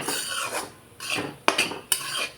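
Close, rasping scrapes of a spoon stirring wheat flour roasting in oil in a pan over medium heat for jaggery laddoos, several long strokes with a couple of sharp clinks against the metal and no voices.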